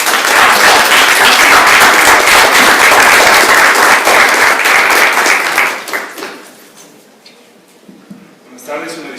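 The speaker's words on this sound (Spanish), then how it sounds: "Démosle un aplauso para romper el hielo" An audience at a book presentation breaks into loud, full applause that carries for several seconds, then thins out and fades into near quiet, with a brief faint sound near the end.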